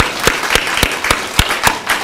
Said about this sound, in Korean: 여러분 서로를 위해서 격려와 감사의 박수 한번 드리겠습니다